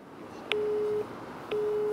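Telephone busy tone after a call is hung up: two short, flat electronic beeps about a second apart, steady and moderately loud over faint line hiss.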